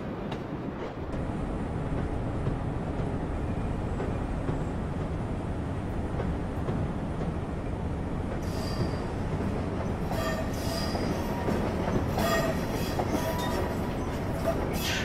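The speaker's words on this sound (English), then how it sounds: "we're coming into the siding now with this train." Simulated train in Train Simulator 2015 rolling into a siding on the New York New Haven line with a CSX Genset locomotive, a steady loud rumble of wheels and engine throughout, with brief high squeals from the wheels toward the end.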